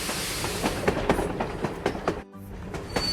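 A steam locomotive runs in a children's train-building video game, its steady rhythmic clickety-clack chugging loud and continuous, briefly cutting out once before resuming.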